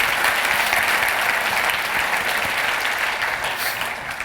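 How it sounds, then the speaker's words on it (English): A keynote audience at a London talent conference applauds steadily, a dense, loud wash of clapping that holds evenly throughout and eases slightly at the end. "Can we give Amy a round of applause?"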